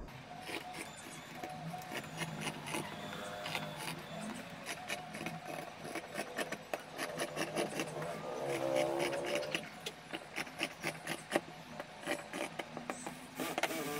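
Scissors cut through fullvoil blouse cloth in quick repeated snips, faint and close against a soft background hum.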